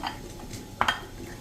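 A spoon clinks against a bowl while instant farali dosa batter is stirred, a few soft taps and one brighter double clink, close and fairly quiet.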